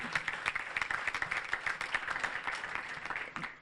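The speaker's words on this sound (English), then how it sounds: "So another round of applause for the beautiful couple." Applause for a newly married couple at a wedding celebration, steady light clapping from the guests heard faintly at a distance.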